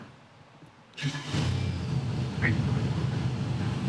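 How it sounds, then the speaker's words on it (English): A carbureted Pontiac engine fires up abruptly after near silence, catching almost instantly and settling into a steady, loud idle rumble. "you want to hear a Pontiac start, how fast a Pontiac starts"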